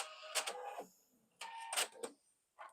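Sewing machine stitching a quilt block, with a few short whirring bursts of about five stitches each, separated by pauses, close and fairly quiet, with no speech.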